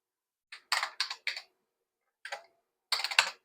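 An original IBM clicky keyboard on an IBM 5150 PC is typed on in short bursts of crisp, loud mechanical clacks separated by brief pauses, with no one talking.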